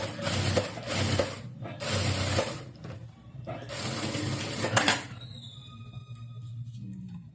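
A sewing machine runs stitches along the folded edge of a blouse lining in bursts, with several close whirring runs separated by short pauses, then fading to a quieter hum.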